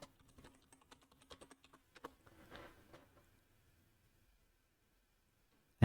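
Rapid keystrokes on a computer keyboard as a search term is typed into a software installer, a quick burst of clicking taps followed by a short pause and then near silence.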